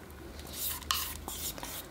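Battered cut pork loin being stirred and mixed by hand, giving soft wet squelching and scraping strokes with a brief clink partway through. The sounds are close and fairly quiet, and no one speaks.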